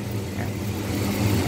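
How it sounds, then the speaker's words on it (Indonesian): A Robhan coffee roaster machine roasting robusta beans gives a steady, fairly quiet whirring rumble with a dense hiss, even and unbroken throughout. "mesin Robhan coffee roaster."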